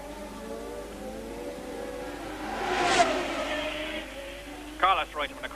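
Formula 1 cars from 1979 cross the finish line at the Belgian Grand Prix. An engine note rises to a loud passing peak and fades, and a commentator talks over the circuit noise.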